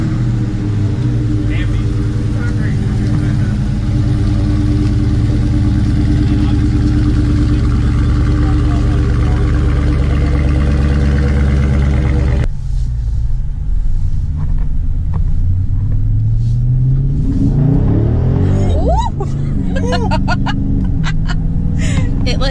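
Dodge Charger Scat Pack V8 rumbling while being driven, a loud steady low drone that drops off midway, followed by lighter road noise and a rising rev near the end, with occasional voices inside the car.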